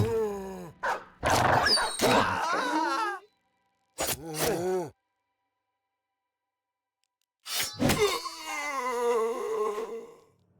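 A dog whimpers and yelps in the video game Battle Brothers: a few clustered whining cries, then a short bout, silence, and a final drawn-out wail, all close and clear.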